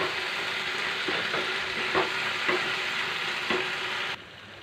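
Taro stolons (kochur loti) cooking in a pan with a little water, giving a steady wet sizzle with a few soft stirring scrapes, close and moderate in level, no voices.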